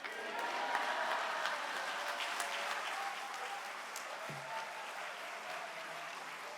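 A church congregation applauds to welcome missionary Kang Seong-young at a monthly Holy Spirit gathering, a steady, dense wash of hand clapping from a large indoor crowd that holds at an even level throughout without fading.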